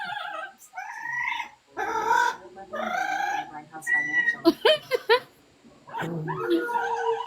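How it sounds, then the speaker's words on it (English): A loud pet parrot squawks and warbles in repeated harmonic bursts close to the microphone, with short sharp calls clustered in the middle, heard alone without talk. "Your parrot sounds like Pavarotti."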